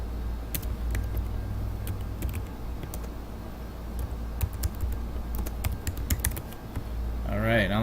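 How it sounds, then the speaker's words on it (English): Quick typing clatters on a computer keyboard while text is entered in a graphics program, light irregular key taps sounding close over a steady low background hum. "all right, let's type"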